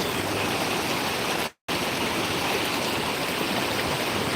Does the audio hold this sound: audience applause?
no